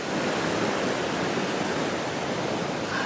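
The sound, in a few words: stream full of snowmelt from the mountains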